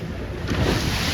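A C420 sailing dinghy pushing through choppy waves, with a steady broadband wash of water and wind rushing close by, no voices.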